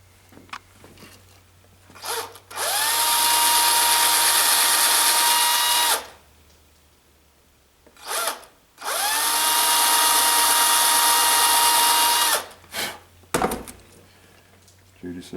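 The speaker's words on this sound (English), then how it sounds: "Take my drill." An electric drill bores into 20 gauge metal in two long, loud bursts of several seconds each, with a steady high whine and grinding, and quieter handling sounds between and after them.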